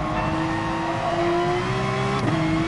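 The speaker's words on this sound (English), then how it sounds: "there's a lot of noise from the braking. It's like grumbling, like noise." A race car engine in the GT Sport racing game drones steadily from the cockpit, its pitch rising slowly, then dipping briefly as the car brakes, continuous and moderately loud without talk.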